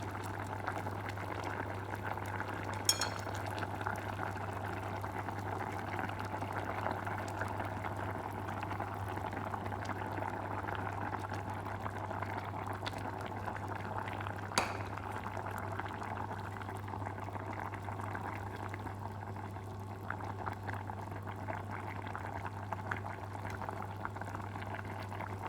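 Pork braising liquid bubbles at a steady boil in a pot as eggs are added, a constant low simmering rumble with faint clinks, no voices.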